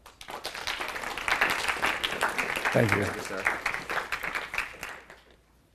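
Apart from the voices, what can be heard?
audience applause welcoming Josh and the students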